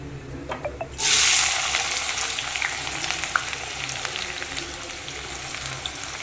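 Chopped onions and green chillies hit hot oil in a pan, bursting into a loud, steady sizzle that starts abruptly after a brief quiet moment and crackles on close by without talk.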